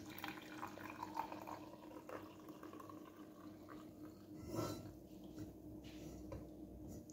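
About 200 ml of water is poured into a mug, a quiet, faint trickle with splashy bursts near the middle, close and without talk.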